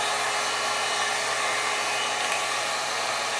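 A 1-inch hot air brush blows a steady, loud, unbroken whoosh of air while curling the top section of a high-quality synthetic wig, close up with no voices.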